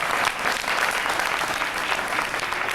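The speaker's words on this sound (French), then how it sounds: "Applaudissez pour le conteur, s'il vous" Audience at an oral storytelling festival applauds the storyteller, a dense, steady wash of clapping that fills the whole stretch at close range, with no break and no talk standing out.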